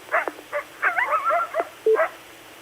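Dogs bark, yip and whine in quick, excited bursts, close and fairly loud, with no talking.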